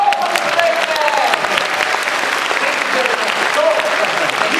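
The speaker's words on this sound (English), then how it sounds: "Applause for the great man." At a science show, an audience claps loudly and steadily for a volunteer, a dense wash of applause that stays even throughout while voices talk faintly over it.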